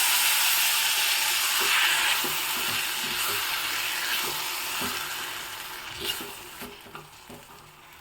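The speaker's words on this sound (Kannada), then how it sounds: "ನೋಡಿ ಹಾಗಲಕಾಯಿ ಚೆನ್ನಾಗಿ ಫ್ರೈ ಆಗಿದೆ ಇವಾಗ ಇದಕ್ಕೆ ರುಬ್ಬಿಟ್ಕೊಂಡಿರೋ ಮಸಾಲವನ್ನು ಹಾಕ್ತಾ ಇದ್ದೀನಿ" Ground masala added to bitter gourd frying in a pan for a Sankethi Brahmin gojju gives a loud, close, steady sizzle that gradually softens, with a few stirring clicks toward the end.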